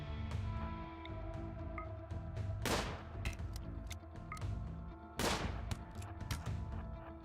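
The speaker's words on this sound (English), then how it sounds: "They're making lots of shots." Gunfire rattles through a first-person shooter match on a flooded shallow-water map, with rapid bursts and single shots near and far, including two loud close volleys, and no voices.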